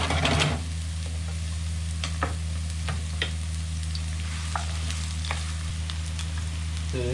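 Onions frying in about four tablespoons of hot oil in a pan for pork empanada filling, a steady close sizzle with occasional stirring clicks and scrapes, no voices.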